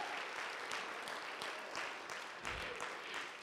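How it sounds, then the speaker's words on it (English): A church congregation claps and applauds together in a dense, steady wash of handclaps that carries on evenly for a few seconds, faint and distant in the room. "Give the Lord a hand clap."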